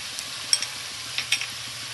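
Chicken and masala stirred and fried in a pan: a soft, steady sizzle with a few light scraping stirs of a spoon against the pan, close and fairly quiet, no talking.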